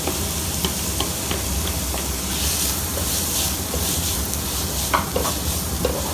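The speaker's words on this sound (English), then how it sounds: "Into it, I'm going to add in chopped onions." Finely chopped onions frying in hot oil with whole spices, a steady close sizzle with intermittent spoon scrapes and clicks as they are stirred.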